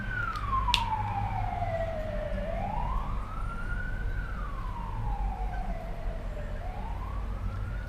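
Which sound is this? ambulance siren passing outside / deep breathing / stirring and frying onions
ambulance siren passing outside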